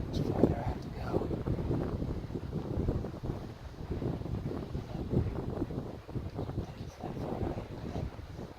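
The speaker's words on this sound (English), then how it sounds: "Got a heavy wind toward my face." Heavy wind buffets a microphone outdoors during an archery hunt in Utah, producing a steady, loud low rumble that never lets up. A voice speaks faintly beneath it at times.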